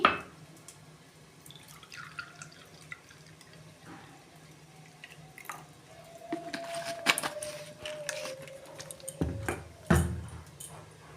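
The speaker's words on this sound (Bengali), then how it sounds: "এই যে ভিনিগারটা দিয়ে দিচ্ছি।" Vinegar pours into a glass cup for a homemade green chilli sauce, a thin trickling stream with a rising pitch as the cup fills, framed by faint clinks and knocks of glass, close and quiet.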